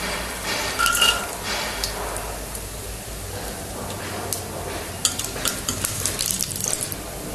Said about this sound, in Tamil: அடுத்து கடலைப்பருப்பு, உளுத்தம்பருப்பு, நம்ம முந்திரியும் போட்டு லைட்டாக ஃப்ரை பண்ணிக்கலாம்